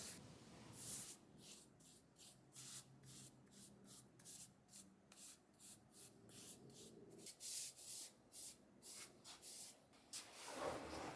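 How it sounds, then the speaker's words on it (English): A brush spreads a single coat of shellac across the underside of a solid maple benchtop in a series of soft, close, rhythmic swishing strokes, each a short hiss, quiet and alone. "I'll just give it a single coat of shellac to seal it"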